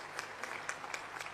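An audience claps after a speech on education reform at a Delhi school event, a brief, faint, steady patter of applause from a crowd at some distance.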